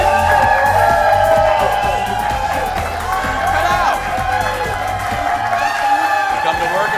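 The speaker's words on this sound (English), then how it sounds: "You come to work and people cheer for you." A live audience cheers, whoops and applauds at a morning gathering, a dense, loud crowd roar running throughout with voices over it.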